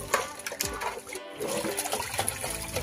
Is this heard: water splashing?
yes